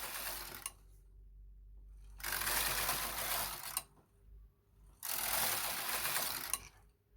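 A Knitmaster Mod 150 knitting machine knitting tuck stitch rows: two long passes of the carriage, each a loud, steady mechanical rasp and clatter lasting about two seconds, separated by quiet pauses with faint low hum.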